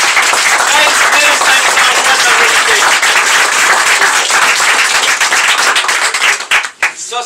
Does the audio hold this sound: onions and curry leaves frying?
no